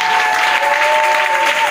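A church congregation applauding together during a morning worship service, with dense, loud, continuous clapping from a large crowd that fills the room without a break.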